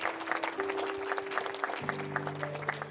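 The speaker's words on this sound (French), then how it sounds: "Acclame pour Jésus." A church congregation applauding for Jesus, a dense patter of clapping with sustained organ or keyboard chords beneath it, moderately loud and continuous.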